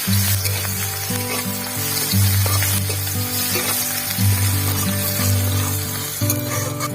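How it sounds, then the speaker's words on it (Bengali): Garlic sizzles in hot oil alongside fried green chillies, a constant close crackle with small bubbling pops that holds at an even level throughout. "রসুনটা কিন্তু খুব বেশি ভাজা যাবে না,"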